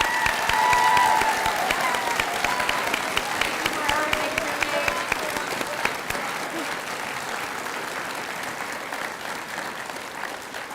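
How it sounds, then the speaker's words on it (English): A Bridge Program 2024 graduation audience gives the grads a big round of applause, dense steady clapping throughout with some scattered cheers, slowly tapering. "Let's give our grads a great big round of applause."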